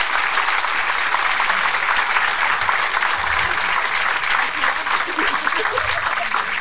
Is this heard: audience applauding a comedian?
yes